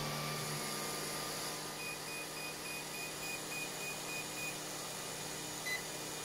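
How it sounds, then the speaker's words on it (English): A Hobbywing Max6 ESC emits a thin series of evenly spaced beeps during programming, faint against a constant mechanical hum that fills the background. "so you heard the beeps"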